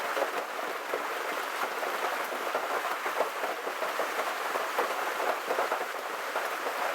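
Steady rain falling outdoors with a constant broadband hiss over seven seconds, no distinct thunderclap standing out, moderately loud and unbroken, with wind in the mix and no talking.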